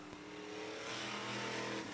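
Engine of a race car at a dirt track race, a steady loud roar that swells slightly as it revs, with no talking.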